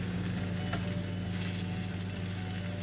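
Bacon frying in a pan gives a steady, close sizzle and crackle with a continuous spitting hiss, heard on its own without talk.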